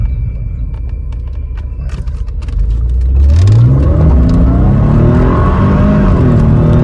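Mercedes-AMG car with a custom tune accelerating hard, engine note rising steeply through a gear as the roar grows louder and steadier, heard from close by with no talk.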